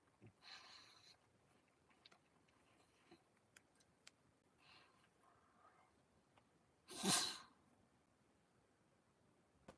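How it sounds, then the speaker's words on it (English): A pug sneezes once, indoors and close by: a short, sudden burst that stands out loudly against a quiet room with faint rustles and small ticks. "Oh, bless you, sneezy boy."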